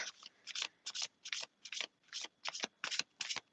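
A deck of cards riffle-shuffled repeatedly, about ten quick crisp bursts in a steady rhythm, close and quiet.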